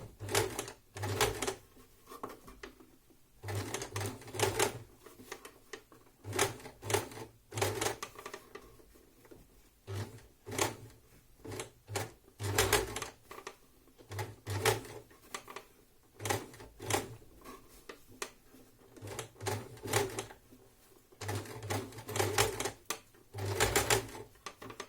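Sewing machine stitching a curved front pocket seam, running in repeated short bursts of fast mechanical clatter separated by brief pauses, close and fairly loud, with no talking.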